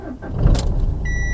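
Dacia Sandero Stepway, low on fuel and due a service, starting up: a short crank and catch of the engine followed by a steady idle and a thin electronic warning chime.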